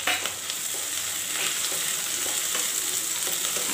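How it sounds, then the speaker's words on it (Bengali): Cumin, ginger and green chili paste frying in a pan for a Bengali prawn malaikari, giving a steady, close, dense sizzle with a few soft stirring scrapes and no talking. "মশলাটা একটু আমি কষিয়ে নেব।"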